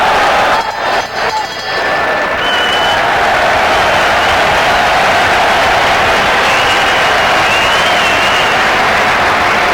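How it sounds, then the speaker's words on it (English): A sellout boxing crowd at the Festhalle in Frankfurt applauding during an IBF light heavyweight title fight, a dense, loud, continuous wash of clapping and crowd noise with a few brief clinks early on. "Appreciative sellout crowd."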